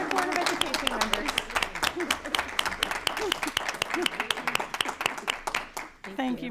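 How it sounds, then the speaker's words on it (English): Applause at a school board meeting for Board of Education members, sharp, uneven hand claps from a modest crowd, with scattered voices and chatter mixed in and a brief lull near the end. "if you could join me in a round of applause for each of our Summer Board of Education members."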